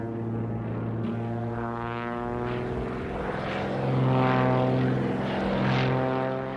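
A propeller airplane drones steadily overhead, its engine tone swelling a little louder midway, with no voices heard.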